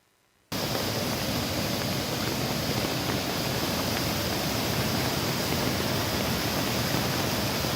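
Floodwater rushes steadily through the hilly Puthukkad area after hours of heavy rain. It makes a loud, continuous broadband roar that starts abruptly after a brief quiet moment and holds unbroken throughout.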